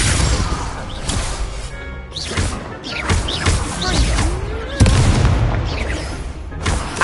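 Confringo fire-blast spells in a Harry Potter game burst repeatedly with loud booms and crashes amid continuous dense battle noise, with swooshing spell effects over a constant roar.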